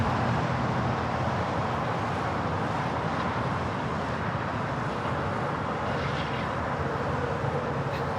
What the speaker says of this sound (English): Coming in from Chicago Midway, that is Southwest Airlines Flight 234 in the 737 MAX 8